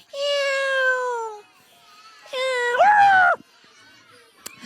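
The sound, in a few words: children imitating cat meowing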